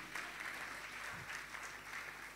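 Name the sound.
congregation applause in church service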